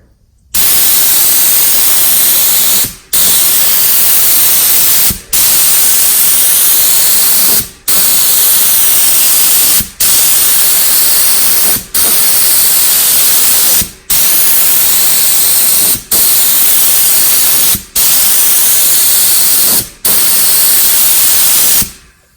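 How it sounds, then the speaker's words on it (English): Steady hissing bursts of an HVLP spray gun applying Rust-Oleum enamel paint, loud and close, repeating about nine times with brief pauses between each light pass. "I'm going to just do a really light spray, and then I'll stop and talk some more."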